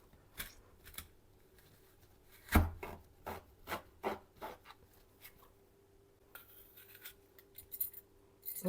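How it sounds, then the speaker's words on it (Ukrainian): Apples are cored with a small kitchen tool, giving a series of short scraping, crunching rubs and clicks in irregular bursts, close and fairly quiet. "Це з чотирьох яблук я буду вибирати серцевину"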